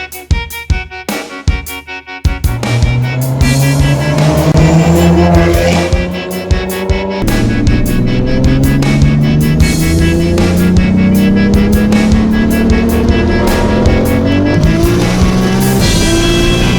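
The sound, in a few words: BMW M3 G80 and Toyota Supra racing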